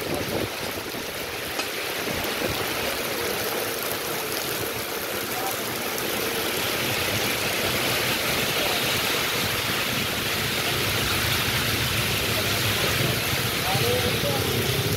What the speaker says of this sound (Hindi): बारिश की आवाज़ सुन लेता हो, तेज बारिश।